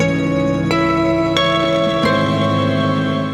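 Old Blood Noise Darklight pedal on its Sunlight reverb side: sustained guitar chords bloom into a lush, shimmering wash, with three fresh strums at even intervals ringing out over a steady, loud tail.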